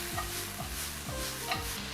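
Onion with black pepper sautés in a pan, giving a continuous even sizzle with regular stirring strokes underneath, close and moderately loud, no voices.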